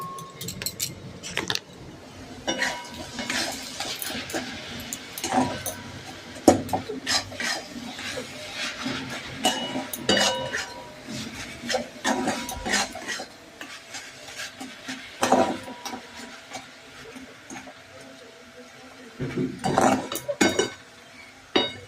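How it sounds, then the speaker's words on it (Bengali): A spoon stirs milk in a metal pot while making pithe, giving repeated scraping, clinking strokes at close range, some sharper knocks in between, with occasional faint talk underneath. "আবার একটুখানি নাড়িয়ে নিই"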